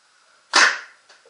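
A PMR paintball marker fires a single sharp, sudden shot, a bright pop that decays quickly, followed by a faint mechanical click of the bolt cycling.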